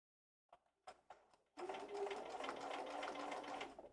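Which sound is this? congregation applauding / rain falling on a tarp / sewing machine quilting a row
sewing machine quilting a row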